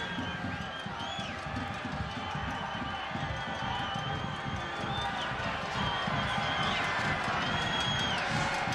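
A dense crowd of fans at a Richmond Kickers versus Forward Madison FC soccer match fills the stadium near the corner. It gives a constant loud roar with rhythmic thumping and scattered cheers throughout.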